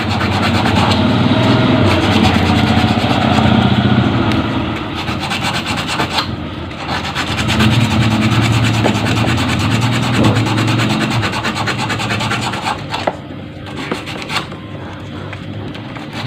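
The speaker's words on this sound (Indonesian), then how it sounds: "kita akan melakukan pengamplasan di sini teman-teman sampai benar-benar bersih" Steady abrasive sanding of metal contacts on a Honda Vario 110 FI motorcycle, close and continuous, with short pauses and a brief change near the end; no voices.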